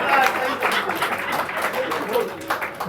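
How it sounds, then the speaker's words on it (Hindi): An audience at a Hindi spiritual discourse breaks into dense, steady applause and clapping for the whole stretch, fairly loud and close, with no pauses. "आप ताली बजाओ।"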